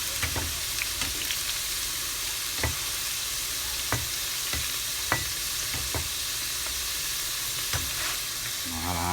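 Eggplant sizzles steadily while frying in a pan, with a constant hiss and periodic scraping knocks of a utensil as it is stirred, loud and close with no talking.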